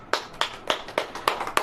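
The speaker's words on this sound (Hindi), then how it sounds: "ताली बजाइए" Congregation at a church service clapping their hands, six sharp, evenly spaced claps in a steady rhythm, close and clear with no talking.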